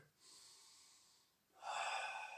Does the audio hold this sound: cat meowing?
no